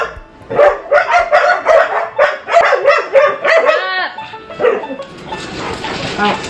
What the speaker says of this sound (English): everybody starts barking.